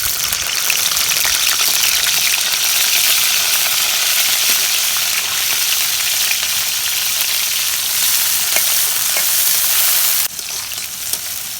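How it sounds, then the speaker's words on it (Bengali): Green chillies and onions fry in hot oil with a loud, close, continuous crackling sizzle that holds steady throughout and dips slightly near the end. "তেল দিলাম এই মরিচ পেঁয়াজগুলো দিয়ে দিলাম"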